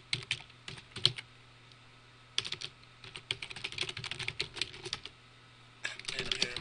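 Quick bursts of typing on a computer keyboard, clustered clicks separated by short pauses, close and crisp with a steady faint background hum.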